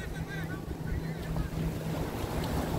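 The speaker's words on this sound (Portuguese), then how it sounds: "Com certeza, essa lancha está indo para o Recife Antigo" A motorboat runs close past a beach at Boa Viagem, its steady engine hum and a low drone carried under constant wind buffeting the microphone, with faint sea noise around it.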